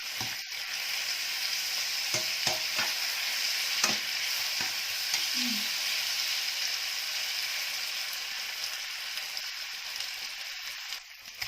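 Vegetables and noodles for a Thai rad na dish stir-fry in a hot pan, a constant hissing sizzle broken by a few scraping clacks of the utensil against the pan, steady and moderately close with no talk.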